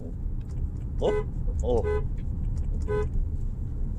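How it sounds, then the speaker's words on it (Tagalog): A 2024 BYD Atto 3 horn, which sometimes fails to sound, gives a few short honks, two close together then one more, over low engine rumble and a brief voice. "Busina nito minsan ayaw."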